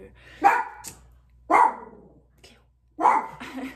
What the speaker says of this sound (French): ça va être genre Cléo qui jappe